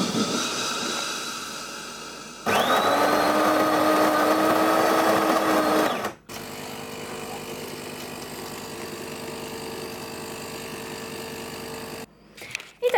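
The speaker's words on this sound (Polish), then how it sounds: "szybciutko cappuccino z pianką zrobione" Home coffee machine making cappuccino with milk foam: a loud steady mechanical whir and hum, then a rising tone as it cuts off, followed by a quieter pumping drone and a final short burst.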